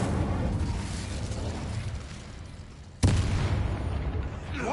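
A fire spell explosion in Hogwarts Legacy bursts out as a sudden loud boom, then a roaring rumble carries on over a dense bed of continuous game noise.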